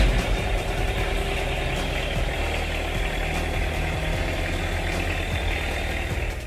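An ATV powered by a Kubota V1505 1.5-litre engine, paired with a five-speed manual gearbox, runs with a steady, rumbling diesel-like chug, loud and close, with no talk over it.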